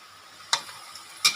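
Kale and pork belly stir-fried in a pan sizzle softly and steadily while a spatula scrapes through twice, each stroke a sharp, brief clatter over the frying hiss.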